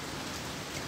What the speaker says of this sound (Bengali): আমার তো মনে হয় পুরো ঢাকা শহরেই বৃষ্টি হচ্ছে।